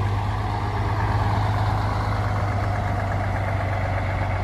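A bus on a driving lesson rounding a corner, its engine a steady, loud, low droning rumble that holds constant throughout without any talk.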